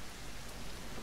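Steady rain pours down in the survival video game Mist Survival. It is a dense, continuous hiss of drops hitting surfaces, fairly loud and uninterrupted, with no speech.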